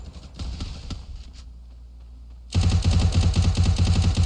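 Faint scattered shots and quiet game sounds give way halfway through to loud, rapid automatic gunfire that continues in a fast, steady burst.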